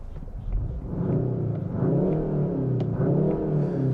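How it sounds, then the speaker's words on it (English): The 2.5-litre turbo four-cylinder of a 2021 Kia K5 GT fires up and settles into a deep, steady burbling rumble, close and continuous throughout. "you can hear when the engine fires up, it has a little bit of a deeper burble to it"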